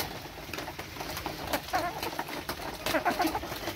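Small white hens cluck in an aviary, giving short scattered calls over a soft steady background, close and moderately quiet.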